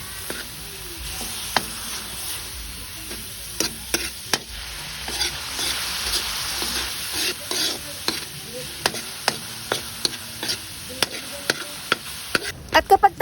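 Ground meat sizzling and frying in a pan while being stirred for sweet-style spaghetti, a steady crackling hiss broken by frequent sharp scrapes and taps of the utensil, close and continuous.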